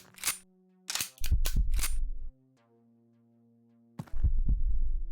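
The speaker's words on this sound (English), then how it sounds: "Run down here, shoot the barrel." Gunshots fired at a barrel in the video game Quasimorph: several sharp, loud cracks with ringing tails in two separate bursts, with quiet electronic tones between them and no talk.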